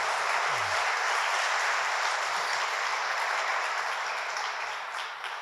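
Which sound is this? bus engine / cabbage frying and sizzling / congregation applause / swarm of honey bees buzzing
congregation applause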